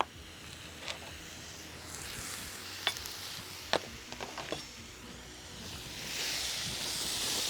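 Meat for paella sizzling in a pan, a quiet steady frying hiss broken by a few sharp crackles and pops, with the sizzle swelling louder toward the end and no one talking.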